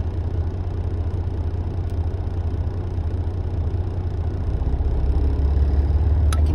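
A parked Freightliner truck's diesel engine runs a regen, a loud continuous low rumble that rises slightly in pitch and level toward the end as the RPMs change.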